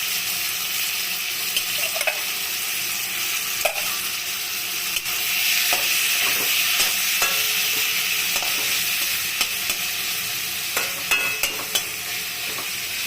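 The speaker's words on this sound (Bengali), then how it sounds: "এখন চিংড়ি মাছটা তেলের মধ্যে দিব।" Prawns frying in a little oil over a low gas flame, a continuous close sizzle with scattered spitting pops and a brief surge in intensity midway.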